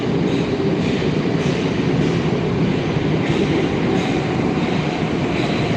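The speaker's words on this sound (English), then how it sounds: "Here's the train." A Moscow metro train pulls into the station with a loud, continuous rumble and rattling roar that fills the platform from start to finish.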